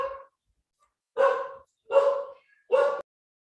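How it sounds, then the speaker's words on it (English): A dog barks four times in a short, evenly spaced series, fairly close and clear, each bark crisp against an otherwise quiet indoor background. "we have some dog barking going on here, so you might hear it"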